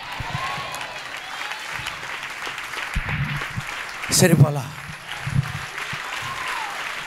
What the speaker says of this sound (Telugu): ఇప్పుడు చప్పట్లు కొట్టాలి.